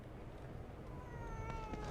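A cat meows in the horror game The Evil Within 2, a few soft, rising cries over a low, steady game soundscape, with no talk.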